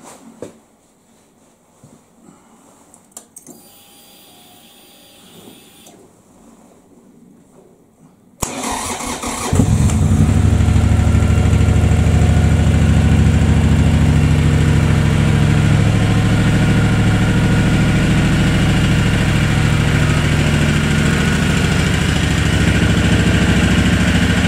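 A motorcycle engine cranks and fires after a quiet stretch, then settles into a loud, steady idle that runs close by to warm up.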